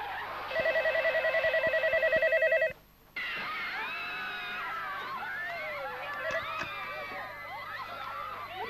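A telephone rings loudly in a Turkish comedy film, a rapid repeated electronic trill lasting a couple of seconds. It stops abruptly, followed by a brief hush and then busy background chatter and commotion.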